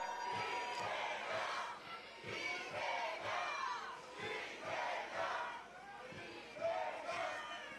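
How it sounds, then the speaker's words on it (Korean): A large outdoor election rally crowd in Gwangyang cheers and shouts in rhythmic rising waves, many voices chanting together at a distance, fairly faint overall, with no single speaker standing out. "이재명 대통령 후보의 연설 큰 함성으로 들어보겠습니다"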